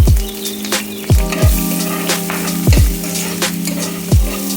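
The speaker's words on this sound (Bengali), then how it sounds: "ঘি গরম হয়ে গেছে, এর মধ্যে আমি তেজপাতা দিয়ে দিলাম, 4টা এলাইচি দিয়ে দিলাম" Bay leaves and four cardamom pods sizzle in hot ghee for a sweet broken-wheat dish, a steady crackling fry with sharp spattering pops at intervals, close and fairly loud with no talk.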